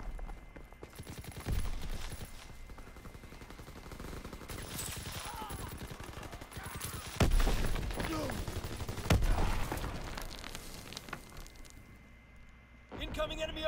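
Video game gunfire scoring headshots amid battlefield chaos: bursts of rapid shots and heavy impacts over constant combat noise, with voices speaking throughout.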